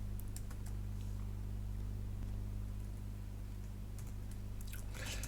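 Python code being typed on a computer keyboard, scattered clicky keystrokes in short bursts over a steady low hum, fairly close and quiet, with a denser flurry of taps near the end.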